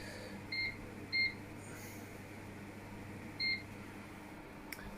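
Kitchen timer being set while chicken breast and chips cook, giving three short high electronic beeps spaced over a few seconds against a steady low appliance hum.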